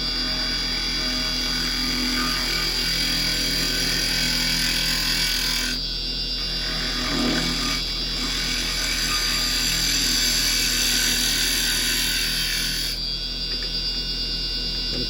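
A wood lathe spins a clock blank while a carbide round chisel cuts it, giving a continuous loud whirring drone with a scraping tool noise that shifts and briefly eases midway.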